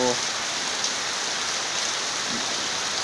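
Steady rain pours down at dusk amid thinning fog, a constant broadband hiss with no breaks, close and even throughout.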